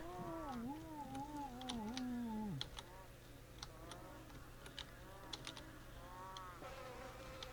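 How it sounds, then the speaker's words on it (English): A fly buzzing around a scary house in the Night Watch game, its whining drone rising and falling as it circles nearby, with sharp clicks and taps scattered throughout and no one speaking. "the fly buzzing around"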